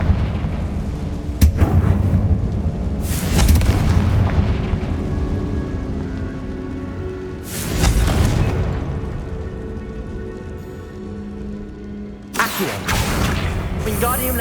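Spell blasts go off in the video game Hogwarts Legacy: several loud booming explosions with sharp onsets and rumbling tails, layered over a continuous game soundscape.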